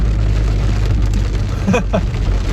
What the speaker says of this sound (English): Okay, it's really raining now,